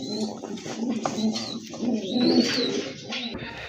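Iranian Shirazi pigeons coo in soft, repeated low throaty calls, close by and moderately loud, with faint background bustle among a collection of pigeons.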